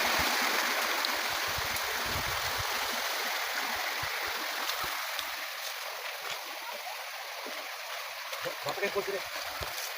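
A shallow creek flows along a trail toward Mount Kasunugan, its water rushing in a dense, steady wash that fills the scene, with occasional splashes underneath and no voices.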